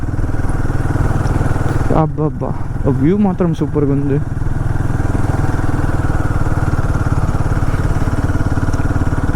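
A Royal Enfield Himalayan 450 motorcycle rides along in third gear, its engine a smooth, continuous drone up close, with a rider speaking briefly over it partway through.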